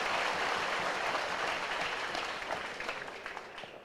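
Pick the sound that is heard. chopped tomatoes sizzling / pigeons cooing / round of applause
round of applause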